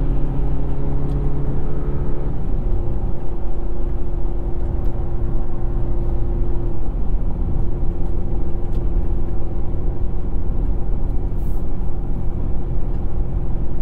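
A 2024 GMC Canyon AT4X AEV pickup accelerates onto a highway while towing a trailer, its engine drone rising in pitch under steady, loud cabin road rumble, heard alone.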